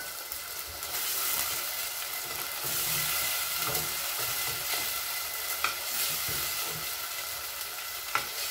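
Sofrito for a fish broth sizzles steadily in a pan as pepper and a splash of wine go in, a continuous bright frying hiss with light stirring clinks and a couple of sharp pops near the end.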